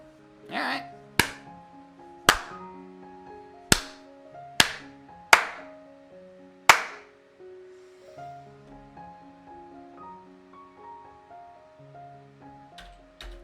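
Sharp hand claps meant to trigger an Arduino microphone clap switch, about seven loud separate claps at uneven intervals over sustained musical tones, then two quick faint claps at the end.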